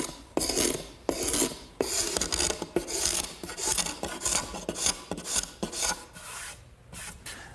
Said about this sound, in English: The scraper is really the best way.